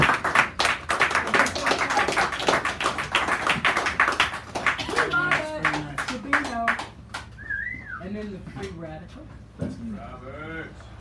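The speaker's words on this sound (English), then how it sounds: "give him a round of applause" Audience applause at a poetry reading in a San Francisco cafe, a busy burst of clapping with a whistle that thins out over several seconds as voices talk and call out over the fading claps.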